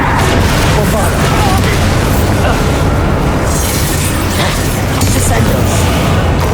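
Bombarda spell explosions in the Hogwarts Legacy video game fill the clip with loud, dense booms and bursting rumble, sustained and thunderous throughout, with battle noise layered underneath.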